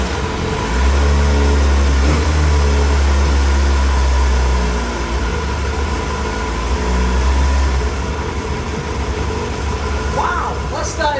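Kawasaki ZX7R motorcycle engine running after a cold start from decades of storage, a loud steady low idle with rising and falling revs throughout, heard close up.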